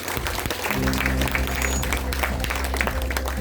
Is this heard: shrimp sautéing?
no